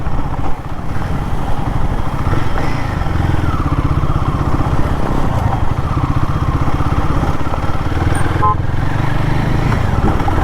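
A Royal Enfield Guerrilla 450 motorcycle is ridden at speed over rough, broken roads, its engine a loud, continuous close drone mixed with wind rush, with no clear speech.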